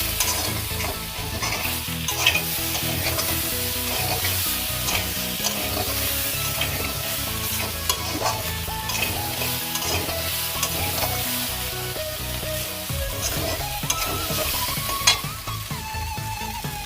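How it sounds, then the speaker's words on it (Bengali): Spice paste sizzles and crackles steadily in hot oil in a pan, a dense, continuous frying hiss with occasional stirring scrapes, close and fairly loud throughout. "তেল দিচ্ছি একটু, দিয়ে মশলাটা ভেজে নিচ্ছি।"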